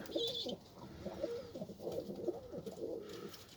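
Tumbler pigeon cooing in a series of soft, low, rolling coos, close and steady, with a brief higher chirp near the start and no talk.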